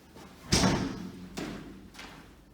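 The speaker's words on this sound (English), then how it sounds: "And we've reached the final fire exit door to the street." Fire exit door to the street pushed open with a sharp bang, followed by a couple of softer thuds and rattles as it swings and settles, heard alone against a quiet background.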